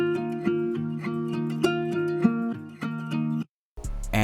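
Raw electric guitar recordings in FL Studio play a rhythmic chord riff with repeated strummed hits, then stop briefly before a different, bass-heavy sound begins.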